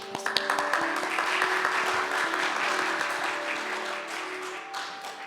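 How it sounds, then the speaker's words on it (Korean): A Sunday church congregation bursts into warm applause for visiting families. The full, continuous clapping holds steady for about five seconds, then eases off, with a soft steady tone in the room behind it. "우리 다시 박수 여기도 있습니다"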